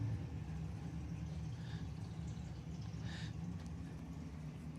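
Drag racing cars at a bracket race rumble and idle in the background after their pass, a steady low engine drone with faint higher bursts, fairly distant and without talk.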